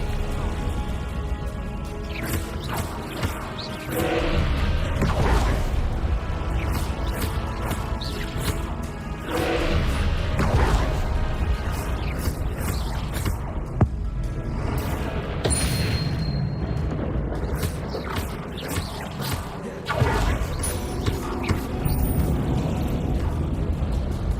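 Confringo blasting curses in Hogwarts Legacy go off as a run of loud, booming explosions and crashes, repeating every few seconds over a dense game soundtrack.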